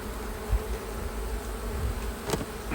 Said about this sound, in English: Go away, little bees. Stay in your house.